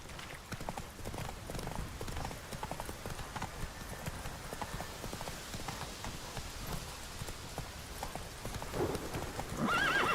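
Roach the horse gallops in The Witcher 3, with a brisk, steady clip-clop of hooves throughout and a whinny rising near the end over a soft rain-like background.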